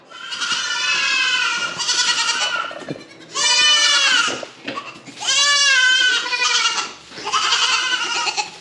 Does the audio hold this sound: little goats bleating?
yes